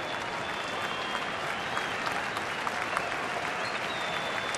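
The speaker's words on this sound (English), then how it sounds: "Crowd trying to help out LaTroy Hawkins." A baseball stadium crowd in Milwaukee applauds and cheers steadily, dense distant clapping and crowd noise filling the whole stretch without a break.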